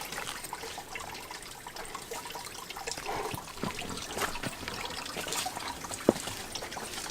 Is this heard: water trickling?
yes